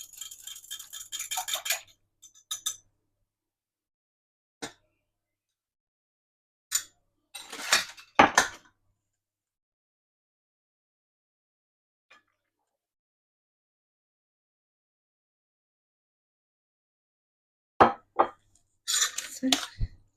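A spoon scrapes and clinks in a bowl in short separate bursts with long silences between, as lemon vinaigrette is stirred into a vegan Mediterranean stuffed mushroom filling.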